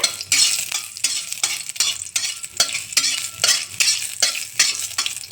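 Cumin and nigella seeds fry and crackle in hot oil while a spoon scrapes and stirs the pan in a steady, repeating rhythm, close and fairly loud, with no talking.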